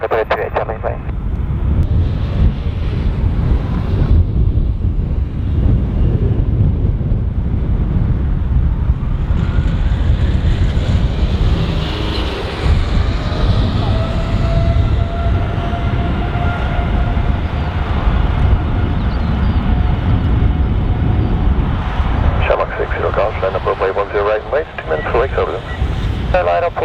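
A Qatar Airways airliner takes off on runway 10 right at Dublin Airport, its jet roar loud and steady throughout with rising engine whine, wind buffeting the microphone, and an air traffic controller's radio voice heard over it.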